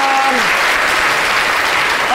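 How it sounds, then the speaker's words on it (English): A room full of people claps loudly and steadily, a dense wash of applause with a brief voice at the very start. "Round of applause."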